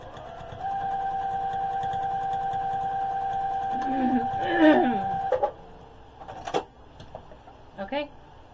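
Sewing machine running steadily for several seconds while stitching the lining of a trick-or-treat bag, then stopping, followed by clicks and handling noises with a voice speaking over parts of it.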